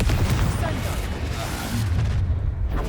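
Confringo fire-blast spells booming in Hogwarts Legacy combat, heavy rumbling blasts layered under a shouting voice and dense battle noise throughout.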